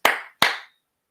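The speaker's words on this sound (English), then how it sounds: "if you aren't happy with your job, clap your hands" Two sharp, close hand claps about a third of a second apart, each ringing out briefly before silence.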